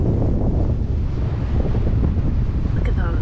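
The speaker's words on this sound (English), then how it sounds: "It's a little windy in here." Steady wind buffets the microphone on a boat in a small cove among mountains in Pybus Bay, a continuous low rushing roar with faint water wash throughout and no clear gaps.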